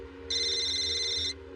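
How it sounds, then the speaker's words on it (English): A telephone at a workplace where calls are recorded rings once, a steady bright electronic tone lasting about a second over a low background hum, with no talk. "they learn about this phone call"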